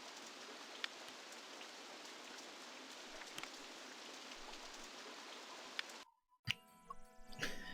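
Rain falling in the video game RollerCoaster Tycoon 3, a dense, steady hiss of rainfall with scattered drop patters, cutting out abruptly near the end before brief busier game sounds, no speech.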